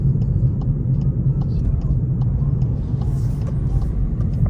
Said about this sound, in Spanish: Poca insonorización del sonido del motor se filtra a la cabina.